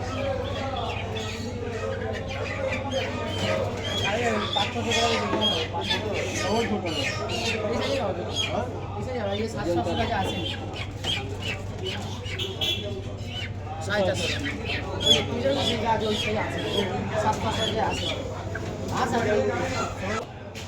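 Chickens squawk and chatter repeatedly inside a busy chicken shop, their sharp calls scattered throughout over a constant low hum while people talk nearby.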